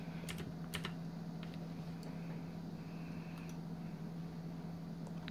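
Light clicking of keys on a computer keyboard, a few quick scattered taps over a steady low electrical hum, quiet and close with no speech.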